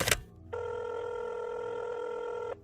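A single telephone ring tone sounds for about two seconds after a brief thump, clear and steady against a quiet background, used as a sound effect within spoken narration.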